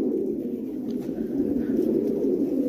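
Fancy coloured pigeons cooing on a rooftop, a soft continuous low murmur of several birds close by, fairly quiet and unbroken.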